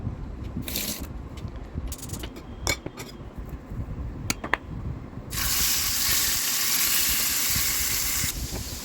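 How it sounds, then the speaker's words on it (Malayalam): Kerala-style pearl spot fish frying in oil in a pan: a few sharp clinks and taps first, then a loud, steady sizzling hiss that holds for about three seconds before cutting off. "പാനിലേക്ക് എണ്ണ ഒഴിച്ച് നമുക്കിത് ഓരോന്നായിട്ട് ഇട്ട് കൊടുക്കാം"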